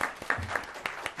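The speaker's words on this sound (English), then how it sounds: "Now we can applaud our panelists." An audience applauds panelists at a policy forum on energy and oil reform in the Americas, with brief, fairly faint clapping that comes in scattered bursts.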